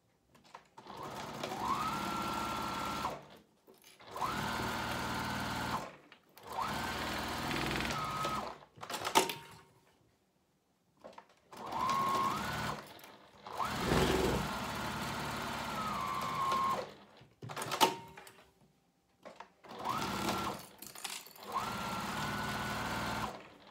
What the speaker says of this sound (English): I'm just gonna go ahead and stitch all the way around the pouch, not into these notches